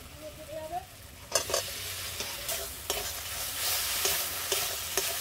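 Fried potatoes are stirred into a spice paste cooked down with chilli powder, sugar and a little water, sizzling softly under repeated scraping spatula strokes in a pan.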